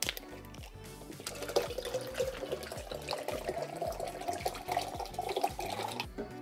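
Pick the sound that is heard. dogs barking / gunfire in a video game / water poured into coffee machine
water poured into coffee machine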